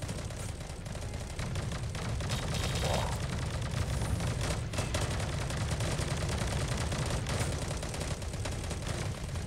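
Gunfire in the battle-royale video game Sausage Man, with rapid bursts of shots and impacts popping repeatedly over a dense, continuous game soundscape at fairly strong volume.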